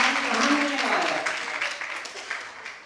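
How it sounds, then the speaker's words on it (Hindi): An audience at a religious discourse claps steadily in a dense, sustained burst of applause that slowly fades, with no speech over it. "बजाओ ताली।"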